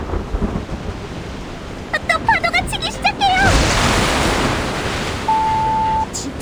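A thunderous storm at sea from the video game Reverse: 1999: heavy rain and surging waves roar under a loud thunder crash, while a character's voice speaks over the storm and a brief electronic tone sounds near the end.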